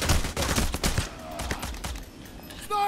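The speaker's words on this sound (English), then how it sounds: "I'm getting shot by the police." Police open fire during a bank robbery in a video game, a rapid burst of loud gunshots crackling close for the first second, then thinner scattered shots trailing off into quieter background noise.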